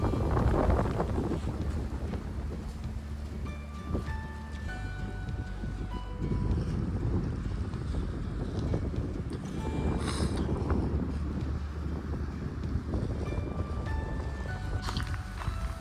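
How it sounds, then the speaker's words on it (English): Strong gale-force wind rushes on a mountain backpacking trail near Pecks Corner, a loud, continuous roar buffeting the microphone in gusts, with faint footsteps or rustling and no clear speech. "That wind, I don't know if you can hear it on camera, but it is gale force whipping out here."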